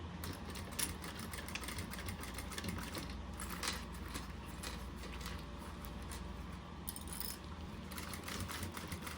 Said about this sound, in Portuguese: Passa uma costurinha bem retinha, bem bonitinha, porque essa costura fica aparente.